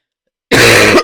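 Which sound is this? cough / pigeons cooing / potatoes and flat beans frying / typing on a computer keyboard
cough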